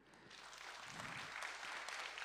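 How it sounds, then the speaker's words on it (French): An audience in a hall applauds to welcome a panelist, a steady wash of clapping that holds and swells slightly over a couple of seconds, moderately distant and with no voices over it. "Olivier Bernard, sous vos applaudissements, mesdames, messieurs"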